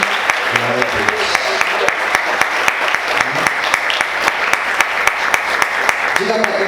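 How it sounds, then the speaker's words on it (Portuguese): A church congregation claps during a Portuguese-language sermon, dense steady applause running throughout at moderate loudness, with the pastor's voice and some crowd voices heard over it at the start and near the end. "Você pode aplaudir Jesus?"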